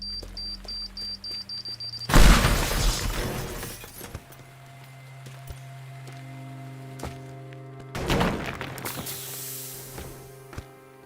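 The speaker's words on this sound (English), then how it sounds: "I'm feeling like bombing this one open." A bomb blasts a structure open in the voxel destruction game Teardown: a sharp loud explosion followed by crashing, shattering debris, a quieter stretch of rumbling collapse, then a second burst of breaking and falling rubble.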